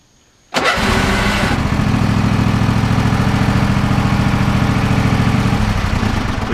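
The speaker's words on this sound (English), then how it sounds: "So I'm going to push the button to start the mower" After a brief quiet moment, the engine of a 1995 RC Wizzard robotic lawn mower catches instantly and settles into a loud, steady, rumbling idle that runs on without a break.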